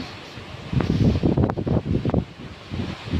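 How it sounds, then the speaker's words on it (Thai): Gusty wind from a rainstorm buffets the microphone in uneven rushing bursts, close and fairly loud, with a roaring, rustling texture that rises and falls over a few seconds. "ลมจ้าพายุ"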